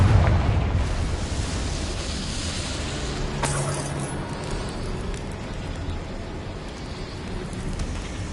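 A Confringo spell explodes in Hogwarts Legacy with a loud opening burst. A long, roaring, crackling rumble follows, like debris raining down, and slowly fades.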